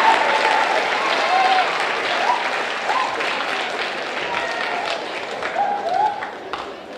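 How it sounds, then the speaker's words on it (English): School assembly audience giving a big round of applause, dense sustained clapping and crowd noise at full strength, slowly tapering toward the end. "I want you to give them a big round of applause"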